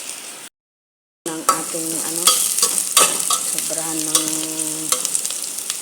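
Onions sauté in a pot with a steady, loud sizzle and frying hiss after a short gap, joined by occasional stirring and brief speech over the cooking noise.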